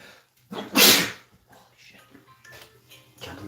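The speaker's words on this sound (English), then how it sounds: "Those were incredible sneezes." A single loud, sharp sneeze bursts out close by, followed by quieter rustling and faint noises in a home setting.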